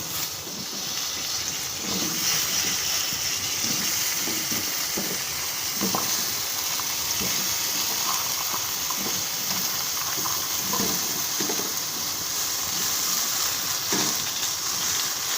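Vegetables sizzle in leftover fish-frying oil in a kadai, a steady close hiss with occasional crackles and stirring scrapes throughout.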